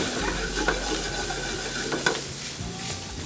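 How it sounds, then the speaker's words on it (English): Brussels sprouts hit a hot pan with prosciutto and sizzle loudly, with a few scraping stirs and light clinks of the pan over the steady frying hiss. "We're gonna add our Brussels sprouts here."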